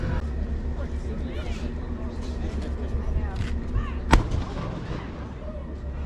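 A historic cannon at a fort fires a 6-pound cannonball, one sharp loud boom near the end cutting through steady crowd murmur and outdoor background noise.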